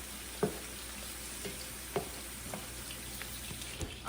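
Onions sauté in a pan for bhindi masala, a steady soft sizzle broken by a few light knocks of a utensil against the pan.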